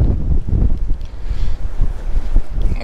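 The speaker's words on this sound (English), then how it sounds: "is it getting windy?" Loud wind buffets the microphone in continuous rumbling gusts, with no voices.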